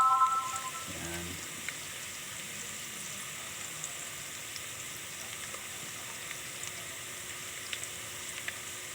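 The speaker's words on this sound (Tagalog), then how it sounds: "pag nagisa ka na mabango yung bawang, masitsit daw" Garlic sautéing in a pan for munggo, a faint steady sizzle continuing throughout, with a brief clink of utensils near the start.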